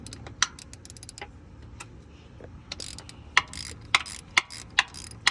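A ratchet works loose the starter screws on a 2017 Dodge Charger R/T with the 5.7L V8, giving quick clicking bursts followed by a series of sharp, evenly spaced metallic clicks close by.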